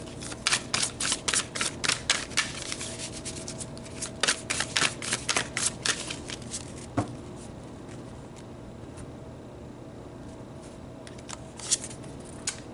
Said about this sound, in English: Okay, let's pull some tarot.